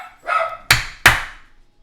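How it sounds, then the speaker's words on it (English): Dogs in a home barking close by: a short yip followed by two loud, sharp barks spaced about a third of a second apart, then quiet. "The dogs are gonna go nuts."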